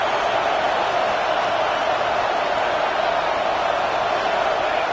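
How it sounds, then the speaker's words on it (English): Stadium crowd at a football game roaring steadily, a dense continuous wash of cheering noise at full volume throughout with no breaks. "It's early, but this crowd is fired up. Listen to this noise here."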